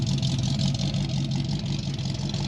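A 1966 Mustang GT with its headers off idles after a cold start, a loud, steady, rough engine drone with a constant low throb and raspy exhaust hiss, close and continuous.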